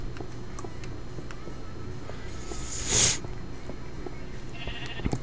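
A single short sheep bleat in Minecraft, heard once mid-clip over a quiet background with faint clicks and tones.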